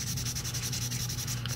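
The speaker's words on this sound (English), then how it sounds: "so that you guys can see kind of what the wet sanding does" Wet sanding of rust on an old U.S. Revolver Co. .32 S&W revolver, a continuous close scratchy rubbing with a steady rhythmic back-and-forth texture and no talk.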